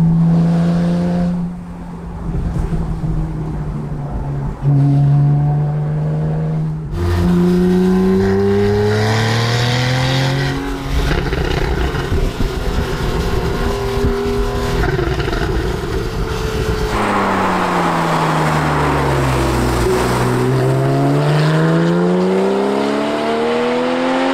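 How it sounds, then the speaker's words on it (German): A naturally aspirated Porsche 911 Carrera (991.1) engine revs hard and repeatedly, pitch sweeping up and down through gear changes, loud and close, no voices. "der letzte Sauger, 911 Carrera, was ein Klang"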